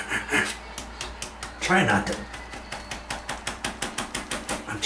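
A metal shower drain cover is tapped repeatedly to loosen it, producing a run of sharp, evenly spaced metallic clicks up close that follow a few rougher scraping rasps, while a person briefly speaks.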